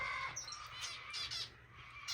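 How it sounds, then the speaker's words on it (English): Impatient parrots squawk in an aviary shared with finches, giving loud, harsh, overlapping calls in quick bursts close by, with raspy high tones and no talking. "you can hear all the other parrots being very impatient that I am in here"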